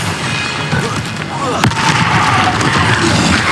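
The Bombarda blasting spell in the Hogwarts Legacy wizarding game goes off as a sharp, booming burst partway through, set against a loud, rumbling, noisy combat background.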